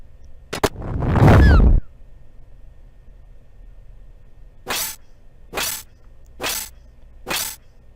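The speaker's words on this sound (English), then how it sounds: "Two of the Shuriken shots just got blocked." Shuriken shots blocked during a Final Fantasy Tactics battle: a loud shattering clash, then four short, sharp bursts spaced about a second apart against quiet game background.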